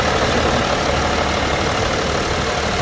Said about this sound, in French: moteur, on reste sur du 6 cylindres en ligne 3 litres, biturbo